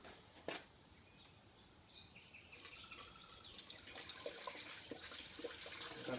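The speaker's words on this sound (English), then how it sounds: "Now we're going to top up the rest with our water." Water being topped up into a car's coolant bottle while servicing the cooling system of a Ford Laser or Mazda 323: a soft, steady trickle and splash that builds gradually, with a brief knock near the start.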